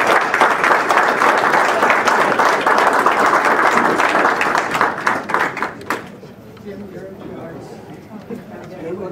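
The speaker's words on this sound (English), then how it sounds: "Let's give a big round of applause for the presentation." A large crowd applauds a presentation at a college athletics event, loud dense clapping for about six seconds that stops abruptly, leaving quieter room murmur and chatter.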